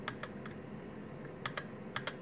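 Keys pressed on a Satan GH60 mechanical keyboard running QMK firmware, including the scroll lock key: a few quiet, close, separate clicks in small clusters, no voices.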